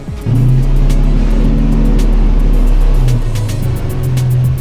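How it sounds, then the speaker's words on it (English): A truck backs up to deliver a replacement engine for a Fiero project car, its engine rumbling loud and close in a steady low drone with a mild rise and fall, no voices. "Be careful, we're backing a truck up."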